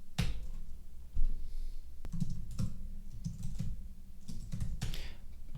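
Typing on a computer keyboard, a run of crisp close key clicks in uneven bursts with brief pauses between them, no voices.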